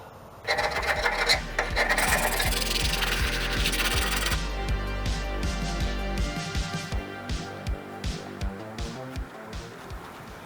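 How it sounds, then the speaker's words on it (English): A hand scraper rasps loose paint off an old trailer, first in one long, loud, continuous scrape, then in a row of separate short strokes that come close together. "I'm going to scrape the paint off that's loose here and brush on red."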